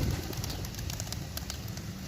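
Pigeons in a loft area where young birds are venturing out, with soft cooing and faint bird sounds over a steady low rumble of background noise, no talking.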